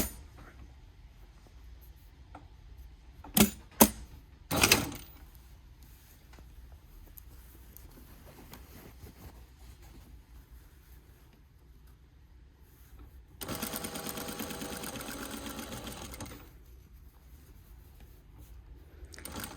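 A domestic sewing machine stitches a quarter-inch seam with right sides of fabric together, a steady mechanical whirr of about three seconds near the end, preceded by a few sharp knocks in an otherwise quiet room.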